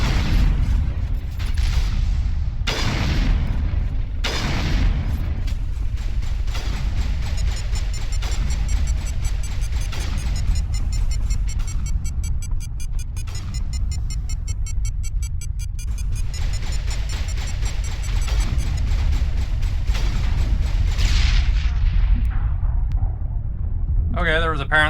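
A mine blast in an action video game, heard as deep booming rumble and low explosion noise under steady game ambience, with a person talking over much of it.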